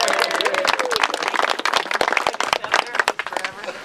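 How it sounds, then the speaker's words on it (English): An audience claps at an outdoor ribbon-cutting ceremony for a bridge at South Park, producing dense, fairly loud applause with crowd voices mixed in throughout. "So please applause for Principal Bruce Pride"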